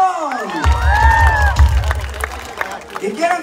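Festival crowd at a town fair in Pajapan cheering, whistling and shouting loudly, with a dense low rumble of noise and voices rising over the din throughout.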